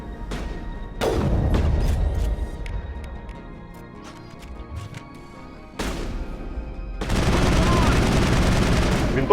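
Rifle gunfire in the video game Mass Effect: loud bursts of shots start and stop in clusters, with a dense rattling barrage near the end and no talking over it.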